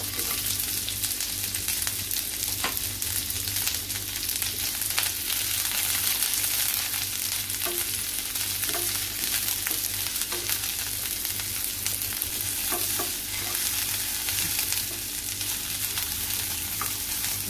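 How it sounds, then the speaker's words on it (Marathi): Vertically sliced onion sautéing in a spoonful of oil, a steady close sizzle with scattered clicks and scrapes of stirring throughout, no voices. "त्याच्यावरती आपल्याला कांदा उभा चिरून घेतलाय तो परतून घ्यायचा आहे"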